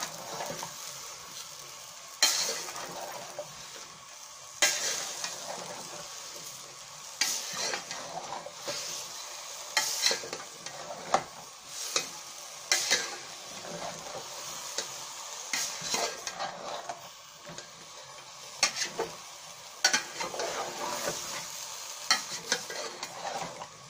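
Aloo gobi of potato and cauliflower stirred in a frying pan: a steady soft sizzle under repeated spoon scrapes and knocks against the pan, irregular but frequent, close and fairly quiet.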